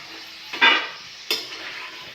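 Peanuts fry in hot oil with a soft continuous sizzle, broken by two sharper bursts of stirring or scraping in the pan; nobody speaks.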